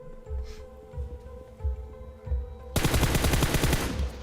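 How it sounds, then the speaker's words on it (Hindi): Loud sustained burst of automatic gunfire from PUBG, arriving abruptly after a stretch of quieter game ambience with soft thuds, then ringing out rapid and close for over a second. "लेफ्ट में इधर से एक फायर करूंगा।"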